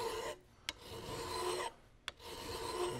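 A metal file rasps and chatters across solder on a shotgun rib clamped high in a vise, three long rough strokes with brief pauses and a sharp click between them, close and alone.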